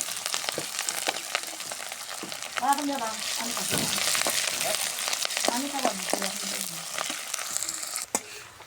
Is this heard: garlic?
yes